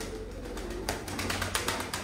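Pigeons cooing in a loft, soft low repeated coos with faint rustles and background bird activity, fairly quiet and continuous with no talk.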